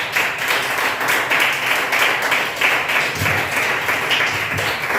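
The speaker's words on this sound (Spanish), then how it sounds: "Denle un aplauso al Señor por eso." A church congregation claps for the Lord during a Spanish-language sermon, a steady wash of many hands applauding together, sustained and moderately loud, with faint murmuring beneath.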